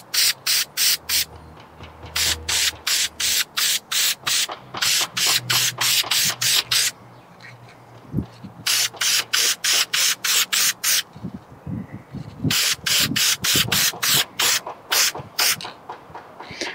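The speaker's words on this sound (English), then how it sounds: "Now we're gonna take and coat it with the Fab 1 air filter oil." Fab 1 oil is sprayed onto a CFMOTO air filter in quick, repeated sharp hissing bursts, fired in long rhythmic runs separated by short pauses with light handling sounds.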